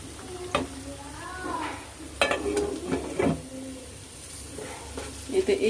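Fish being turned and stir-fried in a spice mixture, a steady sizzle broken by repeated scrapes and knocks of a spatula against the pan, with soft whistling tones early and a few louder clatters.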